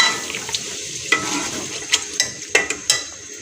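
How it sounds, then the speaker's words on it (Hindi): Spice masala with yogurt being stirred and fried in a pan for Hyderabadi chicken biryani, soft sizzling under a series of sharp spoon scrapes and clinks at irregular intervals, close by with no talk. "अब सारे मसाले को अच्छे से भून लेंगे।"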